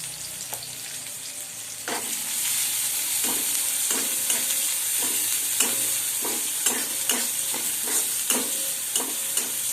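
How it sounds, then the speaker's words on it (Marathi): Finely chopped onion fries in oil for pav bhaji, a continuous crackling sizzle with a regular series of spatula stirs and scrapes against the pan, close and fairly loud, without speech. "त्यामध्ये हा बारीक चिरलेला कांदा टाकलेला आहे. तो छान असा फ्राय होऊ द्यायचा आहे."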